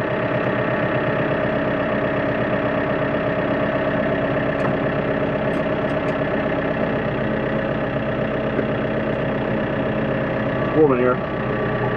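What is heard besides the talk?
engine idling while warming up from cold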